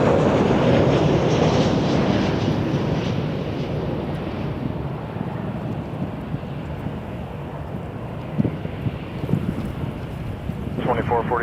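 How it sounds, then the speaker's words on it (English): A WestJet Boeing 737 airliner roars at Toronto Pearson Airport, with a broad, loud jet rumble that swells at first and then eases into a steady drone, buffeted by wind noise on the microphone. "Here's the WestJet 737."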